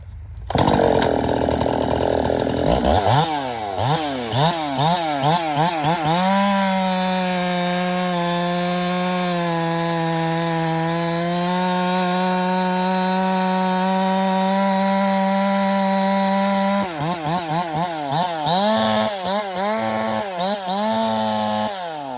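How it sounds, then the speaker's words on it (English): A 390 chainsaw running a freshly ground chain starts up loud and close, then bites into wood with a sustained, strained buzzing whine before revving between cuts. "Nothing like a good day to try out a saw"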